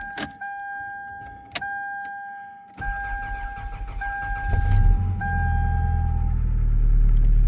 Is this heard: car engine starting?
yes